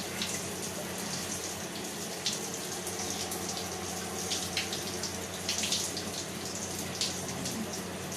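Shower water running over Yodie the Alexandrine parrot, a steady hissing spray that stays constant throughout with small splashy bursts, close and unbroken.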